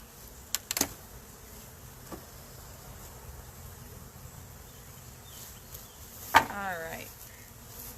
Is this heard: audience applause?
no